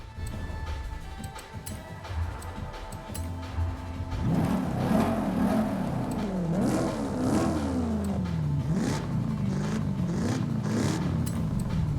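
Car engine in GTA IV: The Lost and Damned revving repeatedly through its exhaust, rising and falling surges over a steady idle drone, loud and close with a faint voice at times.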